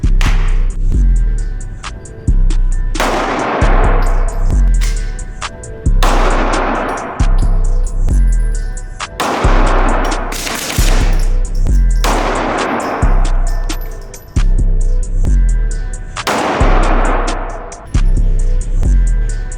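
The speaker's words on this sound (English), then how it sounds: "we got a lot of guns to shoot" Rapid 9mm handgun shots fired at an outdoor shooting range, loud and close, in repeated sharp reports with short strings of shots and brief pauses between volleys, with no talking.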